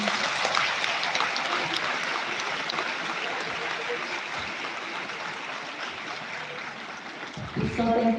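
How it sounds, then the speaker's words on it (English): An audience at a 2022 graduation ceremony gives a long, even round of applause that sounds like rushing water, and a voice breaks in near the end. "A round of applause to Dr. Leonida B. Sigua"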